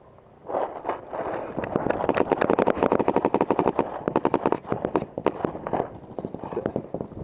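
A WGP MG7 paintball marker fires long rapid strings of sharp cracks outdoors, shots coming in fast bursts with brief gaps, loud and close.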